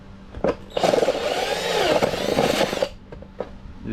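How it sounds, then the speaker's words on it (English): A drill spinning a boring tool cuts through a nitro RC buggy's plastic body, a rising whine with a grinding edge lasting about two seconds, framed by brief clicks and handling knocks. "Chuck this boring tool up in the drill"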